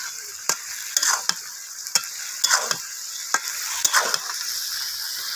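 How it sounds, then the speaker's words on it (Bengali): Fish curry sautéed with spices in a pot over a clay stove, with a constant sizzle broken by sharp scraping stirs at an irregular rhythm, close and clear, with no voices. "মশলার সাথে সুন্দর করে এটাকে কষিয়ে নিতেছে"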